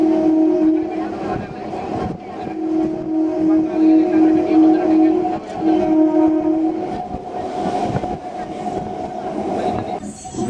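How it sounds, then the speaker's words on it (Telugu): A MEMU passenger train on the Kadapa–Arakkonam line pulls out of Anantharajupeta station, heard from onboard as a steady, loud rolling rumble on the rails with a sustained humming motor tone and light rhythmic clatter. "అనంతరాజుపేట నుంచి మన ట్రైన్ బయలుదేరింది."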